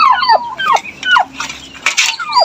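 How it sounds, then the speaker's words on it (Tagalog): A young turkey peeping repeatedly, high descending chirps coming in quick bursts, loud and close. "share ko lang itong ating bagong isang pabo"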